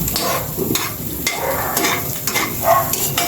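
Garlic frying until golden brown in a pan sizzles steadily while a spoon stirs and scrapes through it, giving repeated short clinks over the constant crackle.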